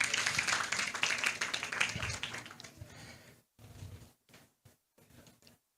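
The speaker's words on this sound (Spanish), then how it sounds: "Un aplauso para Marco" An audience at a Peruvian conference on funding subnational conservation areas claps for Marco Pastor, a full burst of applause for about three seconds that thins into scattered, fading claps.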